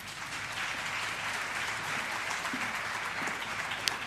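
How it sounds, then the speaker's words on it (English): An audience applauds at a university campus community safety programme launch, a fairly faint, even wash of clapping with no talk over it. "May we please give him another round of applause"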